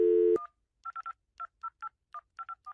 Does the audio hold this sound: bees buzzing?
no